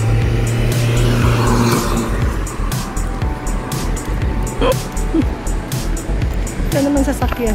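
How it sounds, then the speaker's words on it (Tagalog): A car passes along a hot city street, its engine and tyre noise swelling and fading close by amid steady traffic and street ambience, with a person talking over it. "ito naman sasakyan"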